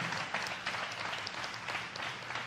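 Church congregation at Lagoinha Miami applauding during a service, a burst of steady clapping from many hands at moderate distance, fairly faint overall.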